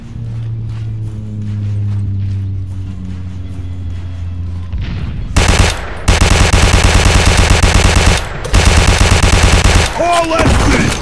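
Sustained machine gun fire from the FG-E in the World War Heroes game, bursting loud and dense for several seconds with a brief gap, following a quieter stretch of tonal game sound.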